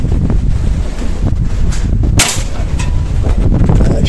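A single sharp gunshot fired at a shooting target on an outdoor range cracks out loudly over constant wind and microphone rumble.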